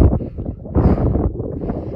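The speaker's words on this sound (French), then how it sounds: "Et il y a du vent." Strong wind buffets the microphone in loud, rumbling gusts on a foggy mountaintop in Val d'Aran during a trail race, swelling midway and staying blustery throughout.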